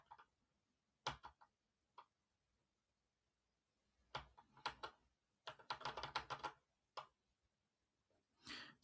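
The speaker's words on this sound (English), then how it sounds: "Sorry if you can hear my keyboard in the background, it's pretty loud." Close computer keyboard typing in short, irregular bursts of clicks separated by quiet pauses.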